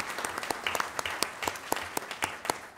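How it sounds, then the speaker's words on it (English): A small group at a Board of Education meeting claps for a few seconds, the individual hand claps distinct and fairly close, steady but uneven. "So please give her a round of applause."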